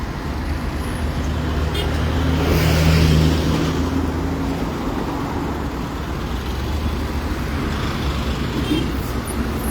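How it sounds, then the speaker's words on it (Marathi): Road traffic stuck in a jam on the Atal Setu bridge between Panaji and Porvorim rumbles steadily with idling engines and a passing heavy vehicle, loud and close. "अटल सेतू ब्रिज सद्या फूल ट्रॅफिक जॅम जाल्लो आसा"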